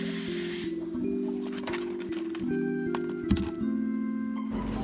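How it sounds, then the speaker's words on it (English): A cucumber being rinsed clean under running water gives a steady spraying hiss with faint clinks and shifting splashes throughout. "rinse the cucumber"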